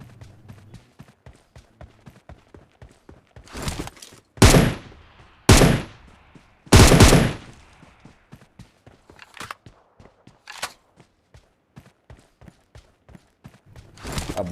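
Gunfire in the PUBG Mobile battle game: several loud bursts of shots come close together in the middle, with soft repeated footsteps and faint clicks before and after.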